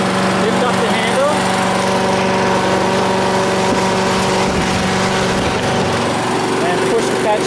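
A petrol lawn mower engine runs steadily with a constant droning hum, close and loud throughout, while a person talks over it.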